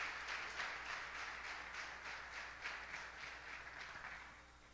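Church congregation applauding during a celebration service, a steady wash of many hands clapping at moderate distance with a faintly rhythmic pulse, continuing without talk throughout.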